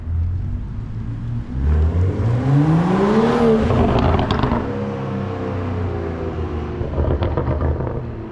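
A BMW F22 M235i with the N55 engine revs up loudly and close by, the pitch rising and then falling away, followed by crackling deceleration pops as the revs drop.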